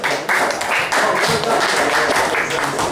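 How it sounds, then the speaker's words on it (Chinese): Students in a classroom applaud together, a dense, continuous patter of many hands clapping close by for the whole stretch. "同学再给他掌声好不好？"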